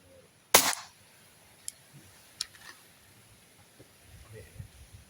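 An Umarex Glock 17 gen 5 pellet pistol fires one sharp, close crack, followed by a few faint ticks and small knocks in a quiet outdoor setting.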